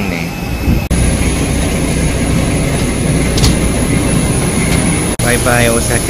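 Jet airplane engines roar at Kansai Osaka airport, Terminal 2, as a loud, steady broadband drone with a high whine, while a voice talks over it and brief dropouts break the noise.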